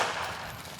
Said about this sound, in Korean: 그리고 달인의 손짓에 울리는 총성.